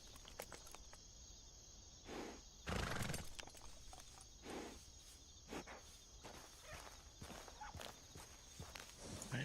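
A horse walks at a rodeo, its hooves clip-clopping in an uneven series of soft thuds, with a brief louder shuffle partway through, against a steady chorus of crickets.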